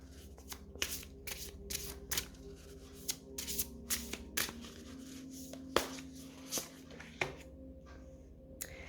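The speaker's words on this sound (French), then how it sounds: "Quelle carte va sortir pour nous donner un petit message?" Oracle cards being shuffled by hand, a quick run of crisp riffling slaps and soft rustles at close range, with brief pauses between bursts.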